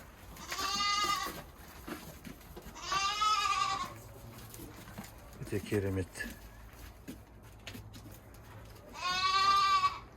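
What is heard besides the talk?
dairy goats bleating on a farm in Kyzylorda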